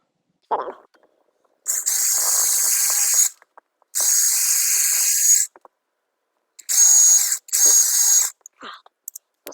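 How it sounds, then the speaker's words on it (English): A power drill driving screws into an exterior door whirs in four bursts of a second or two each, separated by short pauses, close and loud, with faint clicks between. "put it on the drill setting, and then number 2, or the highest number you have on your drill"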